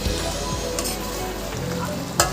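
Chal potol sizzling in a pan as garam masala and sugar are stirred through, with a steady close frying hiss and a few scraping stirs, no voices.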